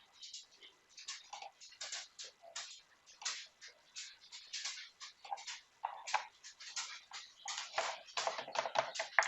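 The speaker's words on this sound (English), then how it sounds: "I'm using the arrow keys to move this around right now" Arrow keys tapped on a computer keyboard, a close, rapid run of light clicks in uneven bursts that continues throughout.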